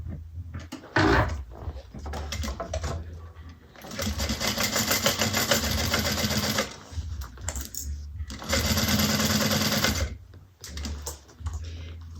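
Stitching across a bag at a quarter inch, back-stitching over the handles: a sewing machine runs in two long, loud, close bursts of rapid needle chatter, separated by shorter stops, small clicks and fabric handling.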